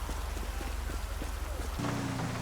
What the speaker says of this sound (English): The rain has finally made it to Sandy Shores